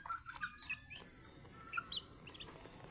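Chicks cheeping in short, scattered high chirps while they eat, fairly faint over a steady background hum, with no talking.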